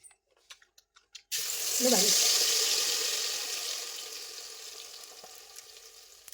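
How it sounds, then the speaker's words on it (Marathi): Masala paste sizzling loudly in a hot pan for a home-cooked vegetable dish, bursting in after a few faint knocks, with a strong crackling hiss that slowly eases. "आता मसाला परतून घेऊ"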